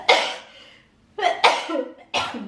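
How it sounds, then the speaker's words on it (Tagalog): Someone with an itchy, irritated throat coughs in a quick, rough burst of three or four close, loud coughs, with short raspy breaths between them. "Pag kumakati ng lalamunan ko ba, wala talagang preno. Mag-ubo ka talaga."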